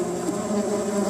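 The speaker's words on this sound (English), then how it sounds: "She is Bugsy the bee." Steady, close insect buzzing like a bee's wings, used as a sound effect in a children's story, droning continuously without pause for about a second.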